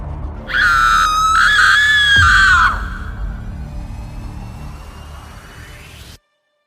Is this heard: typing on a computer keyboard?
no